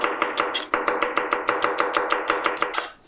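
A knife finely chopping an onion on a board makes fast, even, crisp taps, about sixteen strokes in quick steady rhythm, loud and close with no talking.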